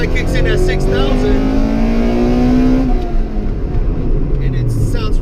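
Acura Integra Type R engine revving hard as VTEC kicks in, pitch climbing steeply to a loud, aggressive howl before a shift drops it and it builds again.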